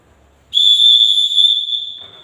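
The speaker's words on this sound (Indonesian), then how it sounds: "kalau ini didahului peluit panjang" A long, loud, steady whistle blast, used as a signal for troops to assemble, rings out alone for about a second and a half before tapering off into quiet.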